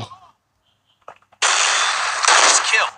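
Gunfire in a Netmarble shooting video game: a sharp burst after a short silence, then a loud, dense, sustained volley close up, with a second surge of shots near the end.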